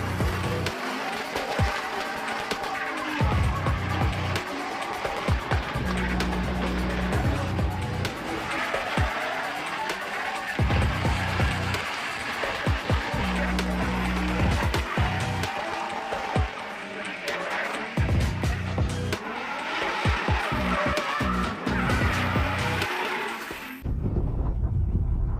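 BMW E46 drift car at the Kietrz track roars through repeated engine surges with squealing tires and skids, heard at a distance over a steady crowd and wind backdrop, with voices faintly present.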